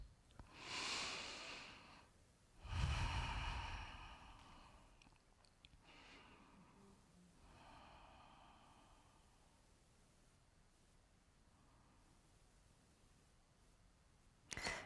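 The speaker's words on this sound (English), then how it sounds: "join me now in taking 3 deep breaths" Three slow, deep breaths taken during an inspirational Wednesday service, each a soft airy inhale and exhale heard close and fairly quiet, spaced out with calm pauses and no talking.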